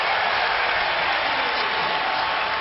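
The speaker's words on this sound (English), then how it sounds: "And James gets the crowd on its feet." Basketball arena crowd at a Lakers–Cavaliers game rising to its feet, a dense, loud wash of cheering and applause that holds steady throughout with no distinct voices.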